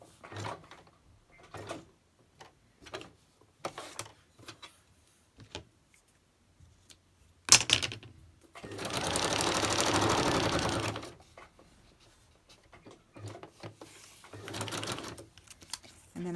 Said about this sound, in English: I'm not gluing it, I'm just going to stitch around my bits.